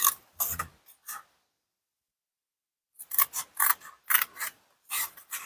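Scissors trimming a stamped paper snowglobe base, with crisp close snips in short clusters, a quiet two-second pause, then another run of quick cuts.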